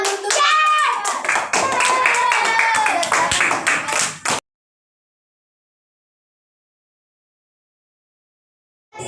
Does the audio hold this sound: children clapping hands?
yes